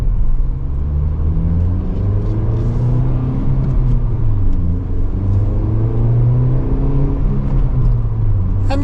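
A 2019 Nissan Sentra Nismo's engine and muted exhaust drone steadily, with engine notes rising and falling as it revs and pulls, loud and close.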